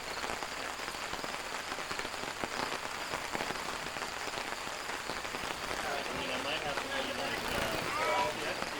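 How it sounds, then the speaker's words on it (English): Steady rain patters outdoors throughout at a monument dedication, a continuous hiss of drops on surfaces with occasional louder splashes and faint movement nearby. "It's been raining all morning."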